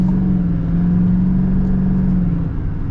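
A 2024 GMC Sierra 3500 AT4 diesel pickup accelerates hard, its deep engine drone and low rumble rising steadily and loud throughout without a break.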